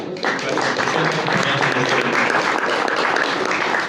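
An audience at a tribute event applauds a fellow speaker, dense clapping starting sharply and holding steady throughout, with voices faintly mixed in.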